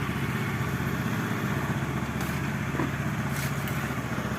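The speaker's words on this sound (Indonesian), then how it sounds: "kemudian kita akan test drive motornya teman-teman" A carbureted Honda Beat scooter engine runs steadily after repair of a stalling fault, with a loud, close, even idle and light mechanical clatter.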